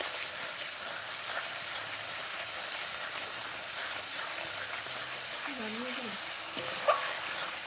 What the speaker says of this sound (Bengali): দিয়ে আবারও এটাকে আমি একটু নাড়াচাড়া করে নেব।